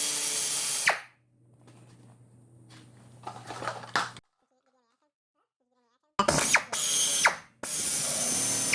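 A ratchet clicks and whirs while removing brake caliper bolts on a 2007 Dodge Ram, loud close bursts of mechanical ratcheting separated by pauses and a stretch of near silence.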